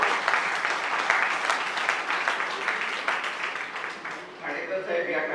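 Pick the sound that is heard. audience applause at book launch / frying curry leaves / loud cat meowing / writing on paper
audience applause at book launch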